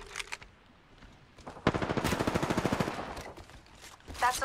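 Rapid automatic gunfire from the video game Apex Legends, with a few short shots early, then a sustained, loud burst of evenly spaced rounds for about a second and a half, followed by more scattered shots near the end.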